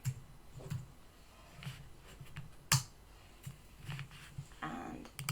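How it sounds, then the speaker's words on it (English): Soft clicking keystrokes on a computer keyboard, a few scattered taps and short runs, fairly quiet and close, over a faint low hum. "I'm going to type time"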